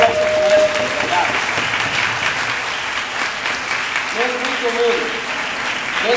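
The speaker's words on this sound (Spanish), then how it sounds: "Mujeres, ¿por qué no les damos un aplauso a estos hombres?" Applause from a church audience, mostly women, clapping for the men in children's ministry: a steady, dense wash of hand claps sustained throughout, fairly loud and close, with a faint voice or tone surfacing briefly underneath.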